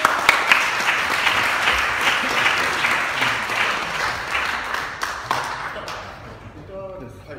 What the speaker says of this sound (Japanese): 拍手でお迎えいただければと思います